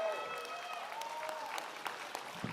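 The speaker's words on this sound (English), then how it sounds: "clap it up, clap it up, clap it up" An audience at a boxing press conference claps in a brief burst of scattered applause, moderately loud and heard from within the room.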